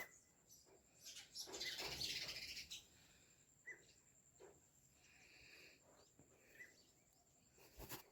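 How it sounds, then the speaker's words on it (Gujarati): Several birds call and chirp around a farm field at dawn, a burst of dense twittering in the first few seconds, then scattered brief tweets over quiet background. "પક્ષીઓ એવા બોલતા હોય ને"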